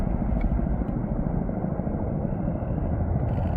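A Ka-52 helicopter escorting an IL-76 transport plane as it takes off makes a continuous deep, rumbling roar, heavy and sustained throughout, with no voices.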